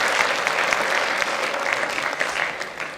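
Sustained audience applause at an evening ceremony honoring the best apprentices of Aveyron, a dense steady patter of many hands that holds level before easing slightly at the end.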